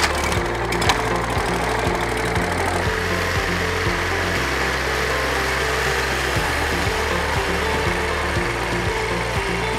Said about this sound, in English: Introducing lawn mowers.